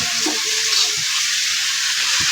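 Potatoes fry in a pan with a steady, close hiss of sizzling oil that stays even throughout, with a few faint low clatters underneath.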